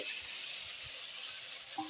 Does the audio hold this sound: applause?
no